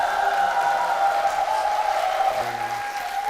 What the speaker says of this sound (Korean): 성도님들의 아주 뜨거운 박수로 시작을 했습니다